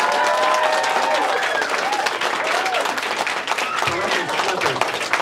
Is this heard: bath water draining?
no